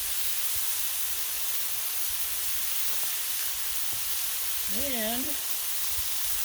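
Smash burgers sizzling on a Blackstone griddle, a loud, steady frying hiss that fills the whole stretch, with a brief spoken word near the end.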